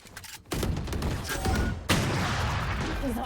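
Gunfire in a Valorant match, with two sharp onsets starting sustained bursts of rapid shots that stay loud and dense, broken only by a brief gap before a second heavy volley.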